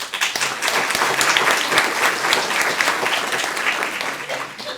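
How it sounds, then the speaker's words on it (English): An audience bursts into sustained applause, dense clapping from many hands filling the room evenly for about five seconds without a break. "I think he really deserves a good applause."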